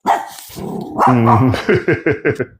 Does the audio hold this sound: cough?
no